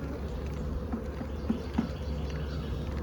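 A steady, low insect buzz from many dark-colored honeybees at a hive, continuous and fairly quiet, with a few slightly louder passes close by.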